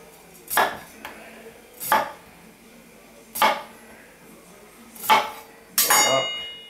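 A knife comes down on a cutting board while vegetables are sliced for chili con carne, five sharp separate knocks at uneven intervals, close and clear, with no talking.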